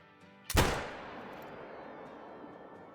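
A single rifle shot fired at long range toward a target nearly 300 yards away, one sharp loud crack followed by a long fading rumble of echo across open ground.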